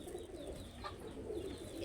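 Pigeons at a market where they are sold, cooing softly in a low steady murmur that runs through the whole short stretch, with faint bird calls around them and no talking.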